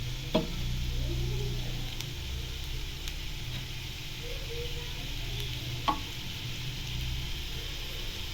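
Spice powder fries in oil in a pan for a traditional village kara ukkalipputtu, a steady close sizzle with occasional stirring scrapes and a couple of sharp utensil knocks, no voices.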